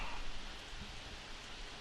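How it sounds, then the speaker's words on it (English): Steady cartoon rain falling as an even hiss throughout, continuous and fairly loud, with no talk over it. "Yo, Kim, what you out there in the rain for?"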